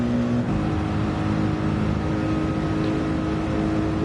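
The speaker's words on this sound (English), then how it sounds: "The sound of the engine." Race car engine at the Nürburgring 24h endurance race, a loud, dense, continuous roar with a brief higher tone at the start, steady and close throughout with no talk.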